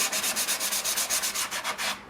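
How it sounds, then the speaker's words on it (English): Steady back-and-forth hand sanding of MDF board, with about fourteen rhythmic rasping strokes in quick, even succession, close and clear with no talking, fading out at the end. "You can see this MDF actually sands very easily."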